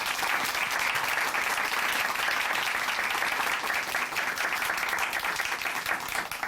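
An audience applauds a woman's faith testimony on a church broadcast, with dense, even clapping filling the hall at a steady loud level throughout.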